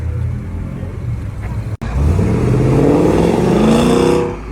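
A BMW race car's engine revs and accelerates during a time-trial event, a loud close rumble that briefly cuts out, then rises in pitch as it pulls away.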